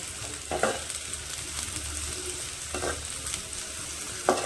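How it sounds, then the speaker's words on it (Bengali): Onions frying in a pan while being stirred, a steady sizzling hiss with a few spoon scrapes and clicks against the pan, close and without talk. "পেঁয়াজটা দিয়ে ভালো করে নেড়ে চেড়ে"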